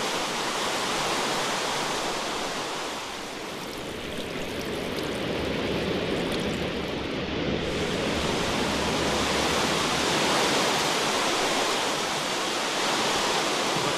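Rain falls in an F1 racing video game as a steady, dense hiss of broadband spray that continues unbroken and fairly loud, with no voices over it.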